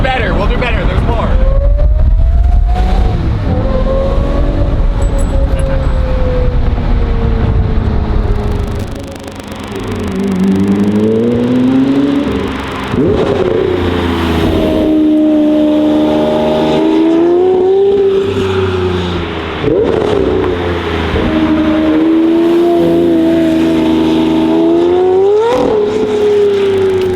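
A Lamborghini accelerates hard around a bend, its engine note rising and falling through repeated gear shifts, loud and close with a strained, wailing tone, while people talk over it.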